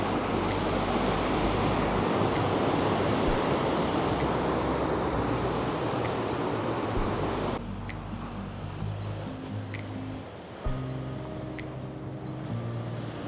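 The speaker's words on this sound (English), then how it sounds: "The sea's making its presence known." Sea waves wash onto a beach as a loud, steady roar of surf. It thins out partway through, leaving a quieter wash with wind noise and faint thuds.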